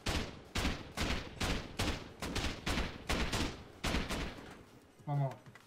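About nine evenly spaced gunshots fired at a gun trap in the video game Rust, sharp and close, with a short burst of speech at the end.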